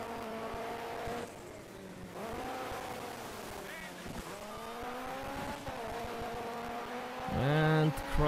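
Rally car engine in the DiRT 3 rallycross event at Aspen: it revs and shifts continuously, with rising and falling pitch and a tire squeal near the end, while someone talks over the gameplay.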